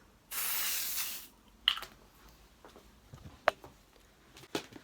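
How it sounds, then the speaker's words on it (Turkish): A Dove deodorant aerosol gives one loud, steady spray hiss for about a second, up close and alone. Light handling knocks and clicks follow in a quiet room. "Şöyle Dove'un deodorantından sıkıyorum."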